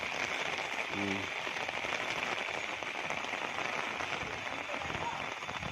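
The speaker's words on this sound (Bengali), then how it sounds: "দেখো কেমন বৃষ্টি হচ্ছে, এখনও ভালো বৃষ্টি হচ্ছে।" Dense, even heavy rain patters on a hard rooftop throughout a storm, with a brief voice near the start.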